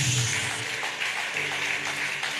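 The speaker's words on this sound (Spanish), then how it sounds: "Denle ese aplauso a Jesús" A church congregation claps together in a continuous, fairly loud wash of applause that holds steady throughout and fills the room, with no pause in the noise.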